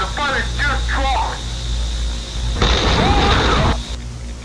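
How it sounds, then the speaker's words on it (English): A loud explosion bursts out in an Undertale analog horror scene, a broad rumbling blast lasting about a second over a steady background drone, following an earlier stretch of radio-like chatter. "A second explosion took place"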